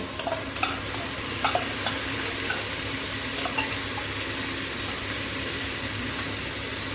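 Onion fries in an oil pan with ginger and garlic paste stirred in, giving a loud, dense, continuous sizzle close up, with a few spoon scrapes and clicks near the start and no talking.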